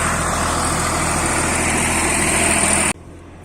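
Tractor with a rotavator tilling a rice field, a loud steady engine drone running close and continuous before cutting off sharply near the end, leaving a quieter background.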